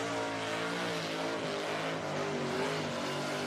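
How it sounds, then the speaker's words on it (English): Car doing a burnout skid at the Summernats burnout event, a loud continuous engine roar with screeching tyre tones holding steady throughout, no voices. "Wow, good skid from Steve Nogas."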